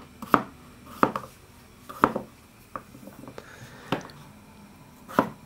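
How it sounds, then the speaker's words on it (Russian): Potatoes being cut with a knife on a board, roughly, in a home kitchen: sharp, distinct chops about once per second, close and fairly loud, with quiet handling sounds in between. "Значит, картофан"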